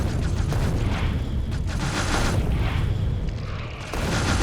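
Gunfire and booming blasts from the Factorio video game as turrets shoot at worms, a dense continuous barrage of loud, overlapping shots and explosions with no pauses across the whole stretch.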